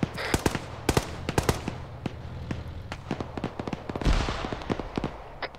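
Gunfire in a military video game, a rapid scatter of sharp cracks and pops at varying distances, some close and loud, others faint, with a heavier burst near the end; no voices.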